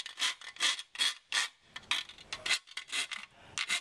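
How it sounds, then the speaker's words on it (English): Round rat's tail file rasping in quick repeated strokes to deburr a cut edge while fitting a roof rack rail to a Land Rover Discovery, close and dry with short pauses between strokes. "we've just got a round rat's tail file and we're just gonna"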